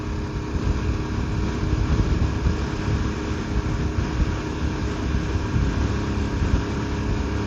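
Royal Enfield Himalayan motorcycle ridden straight into the wind, a steady, loud engine drone buried under constant broadband wind roar that continues without a break, with no talking.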